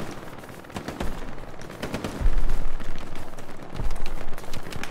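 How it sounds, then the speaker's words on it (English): Pistol shots in the World War II shooter Hell Let Loose on Omaha beach, rapid cracks mixed into dense surrounding battle gunfire, with a couple of heavier booming thumps, loud and continuous. "Me testing out my pistol."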